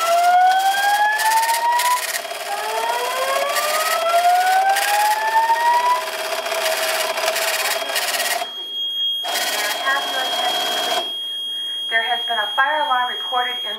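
A linked NFS2-3030 and Simplex 4100U fire alarm system with voice evacuation blares during a system test with rising electronic sweeps and steady tones, then switches to intermittent beeps, with people talking over it throughout.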